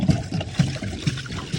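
Water trickles and splashes into a small fishing boat off Coron, Palawan, in a close, uneven series of soft liquid spills.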